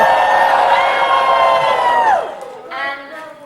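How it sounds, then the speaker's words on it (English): A convention crowd at a mock pony courtroom cheers loudly and whoops together for about two seconds, then the roar breaks off and a few scattered voices trail after. "please raise your hoof and cheer loudly"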